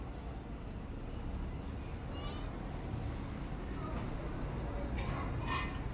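A pregnant cat in labour pain gives faint, strained meows, partly buried in a steady indoor background hiss, with a few cries standing out near the end.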